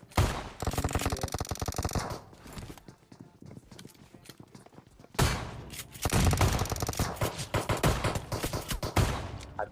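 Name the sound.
gunfire in video game PUBG Mobile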